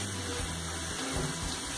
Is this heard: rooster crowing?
no